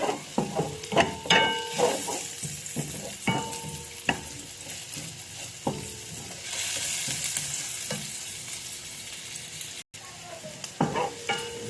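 Garlic frying in a pan and browning while being stirred, a steady close sizzle broken by repeated sharp scraping and tapping of the utensil against the pan.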